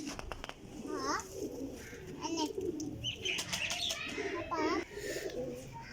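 A pair of pigeons, a Teddy male and a Sharki female, coo softly in repeated rolling calls at close range, mixed with faint chirps and a voice talking in the background.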